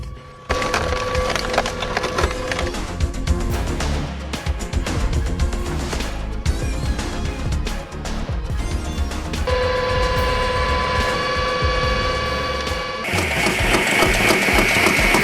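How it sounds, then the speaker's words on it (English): A vintage firewood processor cuts and splits raw logs into fuel blocks, giving a loud, continuous mechanical roar with dense cracking and splintering of wood and a shift to a higher whining drive near the end. "This vintage wood processor transforms raw logs into perfectly cut fuel blocks with mesmerizing accuracy."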